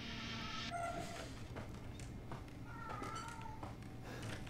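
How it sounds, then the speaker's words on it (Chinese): A pet cat meows a few times, somewhat drawn out, over a constant low hum and scattered background sound. "这是我们家的猫在叫"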